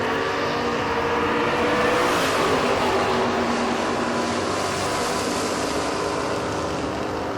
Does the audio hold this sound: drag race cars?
yes